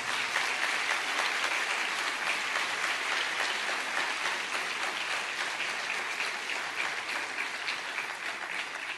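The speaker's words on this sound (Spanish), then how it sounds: "Dale un aplauso al Señor de alabanza" Sustained audience applause at a church sermon, dense and steady throughout, fairly distant and even in level with no voices over it.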